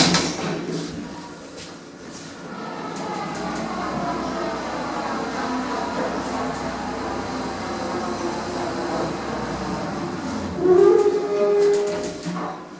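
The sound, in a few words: Otis Gen 2 elevator running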